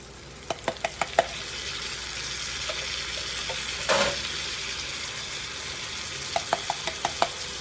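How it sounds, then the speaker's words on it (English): Pork and beans tipped into a pan of translucent frying onions, sizzling steadily with clinks of a utensil against the pan in quick clusters near the start and end, and a brief louder burst of sizzle midway. "We're just going to take our pork and beans and dump it in there."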